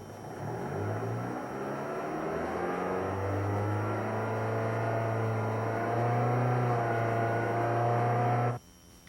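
Car engine running during a MAP sensor test, its speed rising and falling in smooth steps with clear harmonic hum, then dropping away abruptly at the end; close and steady with no talking.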